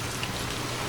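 Steady rain pours at a hotel in Puncak, a dense even hiss with no distinct drops and no voices.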